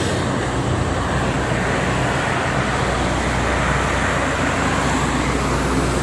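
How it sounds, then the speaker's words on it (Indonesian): Morning traffic on the Jakarta–Cikampek toll road: a loud, continuous roar of passing cars, buses and trucks that stays dense and even throughout, with no pauses. "arus lalu lintas pagi ini ruas tol Jakarta Cikampek"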